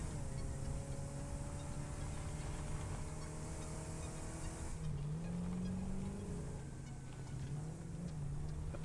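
A vehicle in Satisfactory drives uphill with a steady, fairly quiet engine drone whose pitch holds level, then rises and wavers as it climbs partway through.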